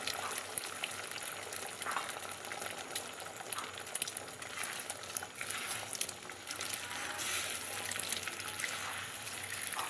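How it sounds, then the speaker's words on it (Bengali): Four eggs scramble and fry in white oil in a wok, a steady dense crackling sizzle running evenly throughout without talk. "কড়াইতে সাদা তেল দিয়ে ডিমটাকে ভেজে নেব, একদম ঝুরি ঝুরি করে ডিমটাকে ভেজে নেব"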